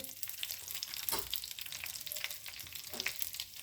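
Green chilies and cumin crackle in a couple of spoons of hot ghee in a ladle for a fresh matar dal tadka, a quiet close sizzle with sharp sporadic pops and spits, and no one speaking.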